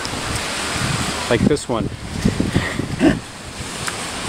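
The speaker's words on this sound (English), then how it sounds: "It's not a steady wind, but there is a gust every once in a while." Typhoon wind rushes and buffets a microphone in a steady broadband roar outdoors, with someone talking over it in short bursts.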